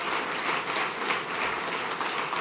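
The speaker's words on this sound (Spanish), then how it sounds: "denle un aplauso a Él" A church congregation claps together in sustained, dense applause, a steady loud wash of many hands with no voices standing out.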